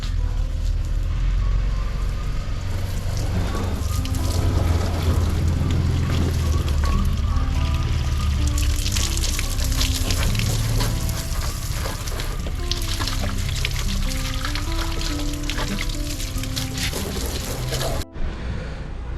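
Steady, loud rush of spraying water runs throughout as a motorbike is washed, splashing against a hard surface, then cuts briefly near the end before resuming.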